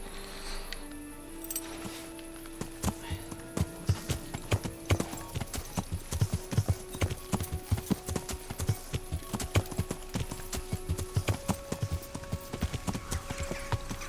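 Steady clip-clop of horse hooves at a brisk trot, regular and close, over a continuous game soundtrack with sustained musical tones, from the video game Kingdom Come: Deliverance.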